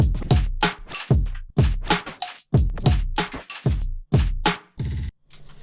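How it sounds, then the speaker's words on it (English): A busy, choppy glitched drum loop made with grain delay, with stuttering hits and a short repeating tail at the end, rhythmic and upfront with no voices. "grooved up, glitched out kind of beat that's all customized"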